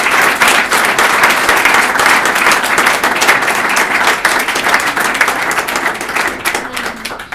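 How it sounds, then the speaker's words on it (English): An audience at a talk on successful Italians in the Bay Area breaks into sustained applause, loud and even, tapering slightly at the end with no speech over it. "I would love to have a round of applause for them."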